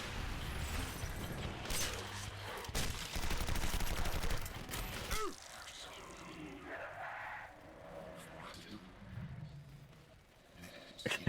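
Loud, dense burst of explosive weapon fire from a rocket weapon aimed at a werewolf in a video game, a roaring blast lasting several seconds that cuts off, followed by quieter rumbling game sounds.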